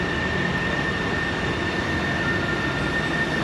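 A commuter train pulls into a Seattle station and gives a steady, loud rumble of wheels and carriages. The roar holds level throughout, with no talk over it.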